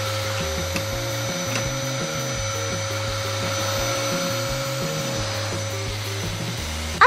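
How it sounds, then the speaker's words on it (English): A household vacuum cleaner runs steadily throughout, a continuous whirring motor drone with a low pulsing undertone, close and fairly loud with no pauses. "Trust me, Anya, that vacuum cleaner is only good for cleaning."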